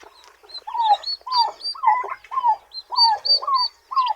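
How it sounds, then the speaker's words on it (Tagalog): A turkey hen's newly hatched brood of seventeen poults peeps in a quick series of high, thin calls, close and steady, with no talking. "Ito naman mga kabrad yung ating pabo sa ngayon."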